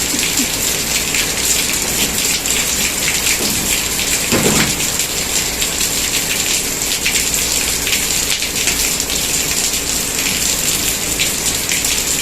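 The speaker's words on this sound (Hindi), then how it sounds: "मैं आपको आवाज़ सुनवा रही हूँ बारिश की" Steady heavy rain pours down outdoors among trees, a loud continuous hiss of drops on surfaces with a brief low rumble partway through, and no one speaks.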